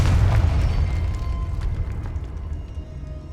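Hogwarts Legacy's Confringo spell sets off a deep, booming blast with a rumbling low tail that slowly fades, and no talking over it.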